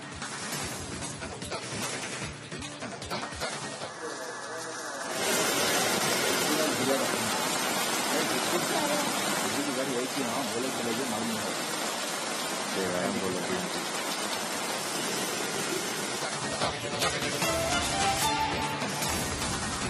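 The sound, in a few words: heavy rain in Bengaluru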